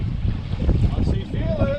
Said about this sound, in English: That wind is bloody nasty.